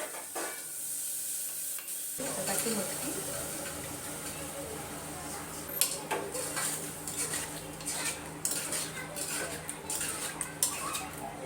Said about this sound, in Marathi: मटकी आणि वटाण्याची अशी मिक्स भाजी मी फोडणी देऊन घेत आहे